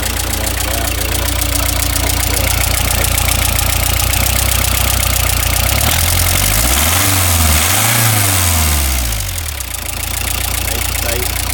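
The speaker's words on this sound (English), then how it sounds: "Runs smooth, not shaking the engine cover or anything like that, really." A small, tight car engine idles smoothly and steadily up close, with a brief rise and fall in engine pitch midway before settling back to a steady idle.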